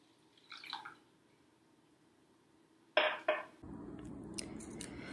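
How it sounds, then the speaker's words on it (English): Water poured into a borax bouncy-ball mixture, with a couple of short splashy bursts and then a steady close pouring rush that lasts several seconds. "And then, we're going to add our water."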